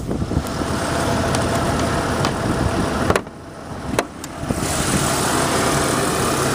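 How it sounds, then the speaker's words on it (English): A Lincoln Mark VI car engine idles steadily nearby with a constant rumbling drone, briefly dipping in loudness midway, no voices. "You can see the engine's running good."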